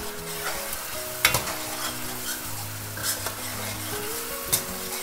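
Ginger, chopped masala and green chili sizzle in a tadka for yellow dal, with a bright frying hiss, a few metallic ladle clinks and stirring scrapes against the pot.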